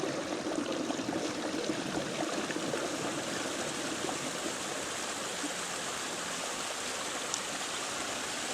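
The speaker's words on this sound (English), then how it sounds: "So a lot of stream coming through the path" A stream of water flowing across a hiking path on a fell walk makes a steady, close rushing and burbling wash that keeps an even level throughout with no speech.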